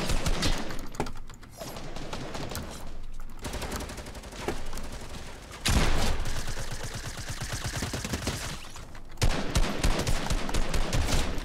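Repeated pump shotgun blasts in Fortnite, loud and close, with dense bursts of gunfire in stretches and brief gaps between shots.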